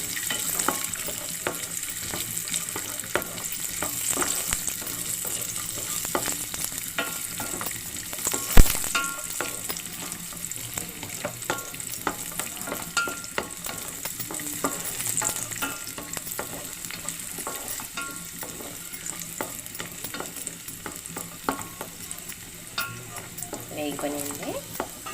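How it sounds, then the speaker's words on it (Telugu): Raisins frying in fat until golden give a long, steady close sizzle with faint stirring, plus one sharp clink partway through. "కిస్మిస్ కూడా వేసేసుకుందాం. గోల్డ్ కలర్లో వచ్చేదాకా వేగిస్తాం."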